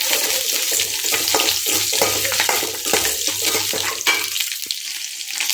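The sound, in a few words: frying green chillies, ginger and garlic in a pan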